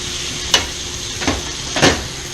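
Pear slices drop into a bubbling rum and agave syrup glaze: a continuous soft sizzle broken by three short splashy bursts as the fruit goes in.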